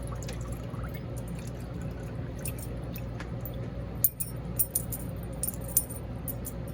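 Screws rattle inside a homemade spinner crank bait, a faint steady jingle under low background rumble, with a few sharper metallic clicks clustered toward the end.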